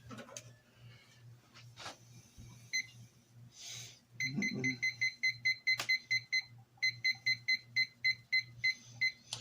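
A kitchen oven's timer, set for about 20 minutes while proving dough, gives a run of rapid, regular electronic beeps after a few button clicks and shuffles, with a low hum underneath.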